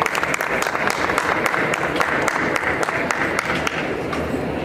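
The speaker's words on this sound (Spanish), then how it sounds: "Un fuerte aplauso para recibirlos," An audience at a medical talk on heart-attack care applauds to welcome the speakers, a fairly quiet but steady crowd clapping with distinct individual claps standing out near the front.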